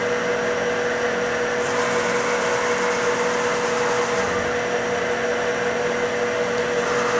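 A Cleveland B6FC vertical CNC bed mill with a 40-taper spindle and power drawbar runs while milling a part. It gives a loud, continuous, even whine with a steady hum and no talk.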